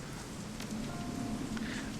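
Steady, soft rain pelts down around a low fire in the Shadowrun Hong Kong game, a faint even patter with no voices.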